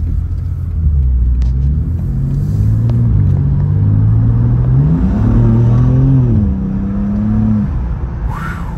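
A 2023 BMW M2 accelerating hard at roughly partial throttle, a loud close engine note climbing steadily in pitch for several seconds before easing off, heard from inside the cabin with no talk.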